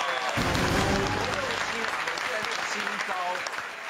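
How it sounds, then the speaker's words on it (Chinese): Studio audience clapping on a Taiwanese television variety show, a dense burst of applause running through the whole stretch while a voice speaks over it. "掌声鼓励，非常棒。"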